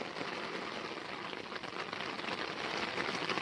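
Heavy rain falls in Alibag, a dense, even hiss of drops on surfaces, steady and soft in level throughout.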